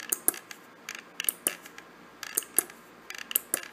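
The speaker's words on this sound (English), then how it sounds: "you can hear the relay triggering, the LED pulsing" A relay on a small LocoNet model railway decoder built around a 12F683 chip clicks in quiet, sharp, irregular bursts, several ticks close together and then short pauses.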